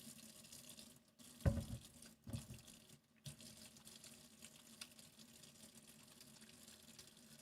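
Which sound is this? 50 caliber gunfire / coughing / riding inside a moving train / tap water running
tap water running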